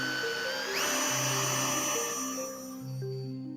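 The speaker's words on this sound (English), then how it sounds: "This is actually the tap size drill for this M5 hole, and drilling that hole next." Power drill cutting an M5 tap-size hole in a metal part on a workshop build, a steady close whine that shifts pitch as the bit bites in and then eases off.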